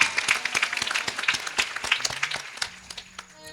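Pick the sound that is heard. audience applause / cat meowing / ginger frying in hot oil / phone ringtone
audience applause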